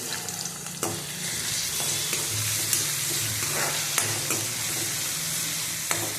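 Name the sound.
onion and tomato frying in a pan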